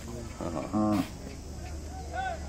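A calf moos a few times, short bleating calls close by, with a later fainter moo over a low outdoor murmur at a Hallikar cattle fair.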